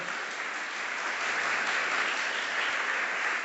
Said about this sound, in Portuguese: Vamos aplaudir Jesus em forte?